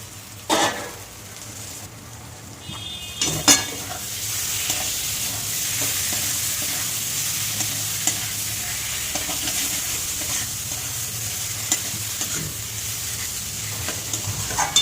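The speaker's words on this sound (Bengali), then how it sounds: "এবার দিয়ে দেবো এর মধ্যে চিংড়ি মাছ।" Prawns sizzle steadily in hot oil in a pan, a close, continuous frying hiss broken by a couple of clanks of the spatula as they are stirred, with no voices.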